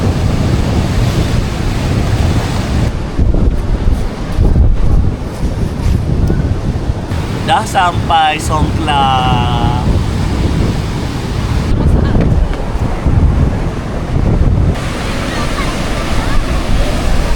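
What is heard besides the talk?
waves and wind at Samila Beach, Songkhla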